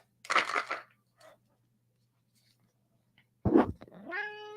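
A cat meows twice nearby, separated by a long quiet gap, the second call rising into a drawn-out, whiny cry.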